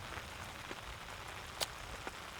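Rain falling at a lakeside campsite, a faint, steady patter of drops on surfaces with a few slightly sharper individual hits standing out, quiet and continuous with no voices.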